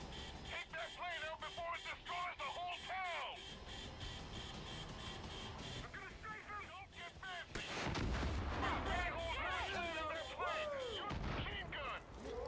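Gunfire in the video game Far Cry 5 comes as rapid, close bursts of shots in dense volleys throughout, with a heavier blast partway in and a voice faintly under the shooting.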